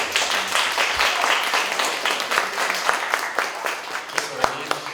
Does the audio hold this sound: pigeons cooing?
no